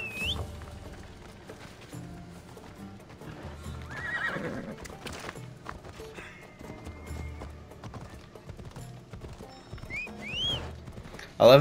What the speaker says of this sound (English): you can't bring your horse through the thing. Or you can't call your horse here.